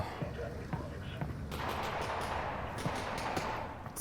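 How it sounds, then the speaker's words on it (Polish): Gunfire in the VR shooter Half-Life: Alyx rings out as several sharp, rapid shots over a steady noisy game ambience, fairly loud and close, with a voice talking over the action. "strzały."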